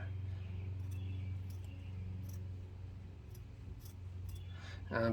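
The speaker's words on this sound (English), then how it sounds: "I am trying to cut it to width all the way down, and these are definitely not the best pair of scissors." A cheap pair of scissors cuts a strip of material to width, giving faint, irregular snips and clicks over a low, steady background hum, with a louder rustle at the very end.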